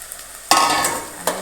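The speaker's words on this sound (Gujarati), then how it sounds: "હવે આપણે ફુલાવા નાખી દઈશું" Cauliflower is tipped into hot oil in a pan and stirred for a curry, a sudden loud sizzle that keeps frying, with a second scrape of stirring near the end and no talk.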